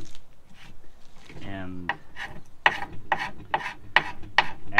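Bahco 625 scraper rasping old glue off wood, a run of rhythmic strokes, close and fairly quiet, with a brief spoken word near the start.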